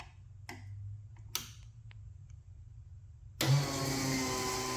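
Snowmobile fuel pump on a turbocharged triple-cylinder two-stroke, with a few sharp ticks and clicks over quiet low hum, then a sudden louder steady whir as gas starts flowing.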